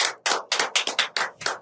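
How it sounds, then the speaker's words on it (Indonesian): About eight sharp, evenly spaced hand claps sound close by in a quick steady rhythm during a podcast recording. "Tepuk tangan dulu."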